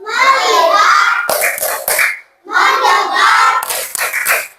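Indonesian schoolchildren chant in unison and clap a quick rhythmic pattern of focus claps in a classroom, with sharp hand-clap bursts between loud group voices.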